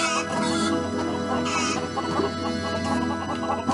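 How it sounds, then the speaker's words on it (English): Chickens cluck in the Lego Worlds video game, with game sounds layered over them. The clucking runs steadily through the short stretch and stays fairly close. "The chickens attack you."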